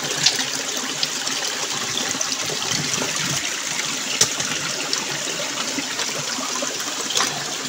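Gravel being panned for gold in a stream, with steady water swishing and trickling throughout, close and continuous, a few small splashes and knocks over the wash.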